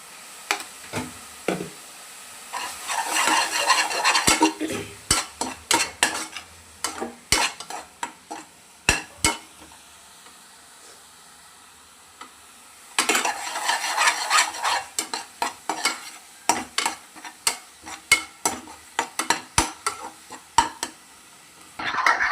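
Ginger garlic paste sizzles in a hot pan while a spoon repeatedly scrapes and stirs against the metal, with pauses between bursts of stirring.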